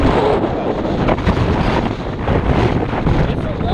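Wind blowing hard across a microphone at a street corner in Austin, Minnesota, a steady loud rush with buffeting throughout.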